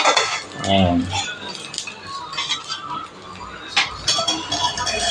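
Metal pot lids clink and clatter close by in a burst of sharp knocks and rattles while a person talks over the handling.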